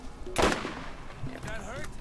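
Gunshots in Borderlands: a sharp loud shot followed by a quieter second report, with faint whirring game effects afterward.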